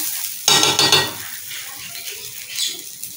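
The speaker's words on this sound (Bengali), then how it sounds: "এখন ভালো করে আমি একটু কষিয়ে নিব, এমনভাবে কষিয়ে নিব যাতে ভাতগুলা ঝুরা ঝুরা হয়" A spoon clatters and scrapes against a pot as rice for biryani is stir-fried. A burst of metallic stirring comes first, then a quieter sizzle with a few lighter scrapes.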